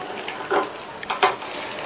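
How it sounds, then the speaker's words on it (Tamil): Fried potatoes stirred into a simmering curd mixture in a Tamil home kitchen, two short wet scraping stirs over a low steady bubbling hiss, close and alone without talk. "உருளைக்கிழங்கை சேர்த்துட்டு நல்லா மிக்ஸ் பண்ணி விட்டுட்டு"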